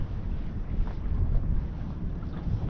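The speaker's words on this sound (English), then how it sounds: "It's not blowing 1 to 3, it's probably blowing force 3 to force 4 westerly." Steady low rumbling wind of a force 3 to 4 westerly buffets a small fishing boat at sea, a continuous close roar with muffled water movement and no speech.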